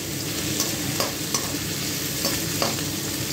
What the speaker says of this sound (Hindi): अब उसी तेल में मैं एक तेजपत्ता, जरा सा मिर्ची पाउडर और जरा सा चीनी मिलाऊंगी। प्याज डालकर प्याज को लाल करूंगी।